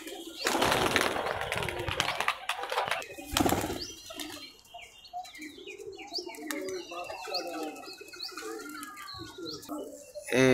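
Highflyer pigeons coo softly amid loud wing flapping and rustling near the start, followed by repeated soft coos and faint chirps close by.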